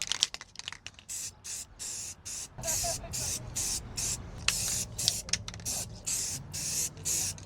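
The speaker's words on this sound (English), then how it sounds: "This is by far the best spray paint that I've found." Repeated short hissing bursts of an aerosol spray can, sprayed in quick, uneven pulses close by.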